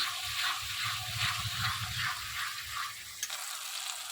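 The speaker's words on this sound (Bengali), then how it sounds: "মশলা থেকে তেল ছাড়তে শুরু করেছে এবার দিয়ে দেব জল" Water is poured into garam masala spice paste frying in oil, giving a steady close sizzle and bubbling that cuts off sharply near the end.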